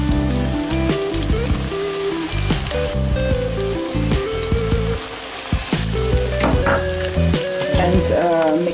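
Coquillette pasta and basil stirred in a sizzling pan, with a steady hiss of frying under irregular scrapes and clatters from the stirring.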